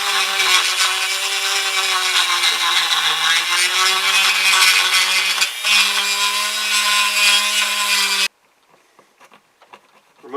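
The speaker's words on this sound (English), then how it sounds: "Let me get a Dremel, we're going to clean this sucker out of here." A Dremel rotary tool grinds out glass bedding compound in a Ruger 10/22 rifle stock, making a loud, sustained high-pitched whine that wavers with the load, then stops, leaving faint handling noises.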